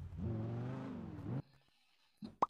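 A motor scooter's engine revs for over a second with a rising and falling whine, then cuts off, followed by a few brief knocks and clicks.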